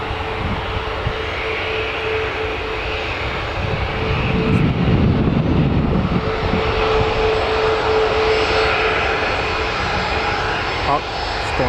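A fixed-wing aircraft at Newcastle Airport lines up on the runway and powers to full throttle, its engine roar swelling into a loud, sustained rumble over steady background noise, with a voice talking over it.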